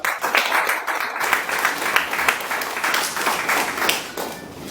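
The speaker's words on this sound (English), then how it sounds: "So a big round of applause to my first mentor" A modest audience at a Toastmasters education session claps for a mentor, the individual hand claps distinct and close in an uneven, lively patter that holds steady before thinning near the end.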